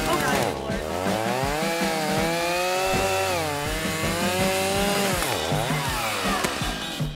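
Chainsaw hands cutting a tree in GTA 5 RP, a continuous loud buzzing engine whine that rises and falls in pitch as it revs and bites into wood, steady for the whole stretch.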